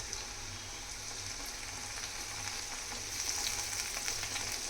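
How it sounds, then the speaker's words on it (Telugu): Onions and tomatoes sizzle steadily in a pan for an old-style brinjal and dried fish curry, a constant close frying hiss that grows slightly louder partway through, with no talking. "ఈ టమాటాలు కూడా ఇందులో వేసేసుకోవాలి ఫ్రెండ్స్."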